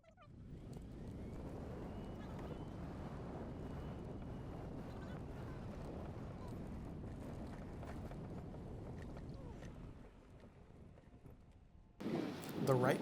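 Wind on an open golf course buffets the microphone with a low, continuous rumble, easing for a moment before a stronger gust at the end.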